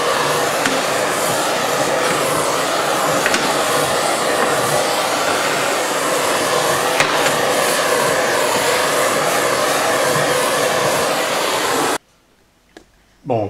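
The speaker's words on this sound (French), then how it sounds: "comme ma recharge de gaz était neuve, le chalumeau était difficile à maîtriser" A gas blowtorch running on a freshly refilled gas cartridge gives a loud, continuous roaring hiss for about twelve seconds, then cuts off abruptly into near silence with a brief soft knock at the end.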